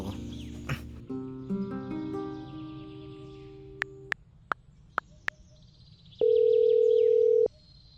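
A few clicks and short beeps, then a steady, loud telephone tone holds for over a second before cutting off.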